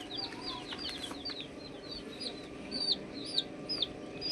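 Small colored baby chicks cheep in quick, high, repeated bursts over a dense, steady background murmur. The chirps grow sharper and more prominent toward the end.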